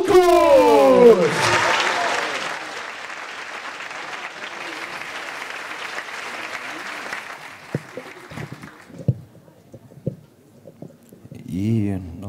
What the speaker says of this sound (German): Einen riesen Applaus für Marvin Sukut.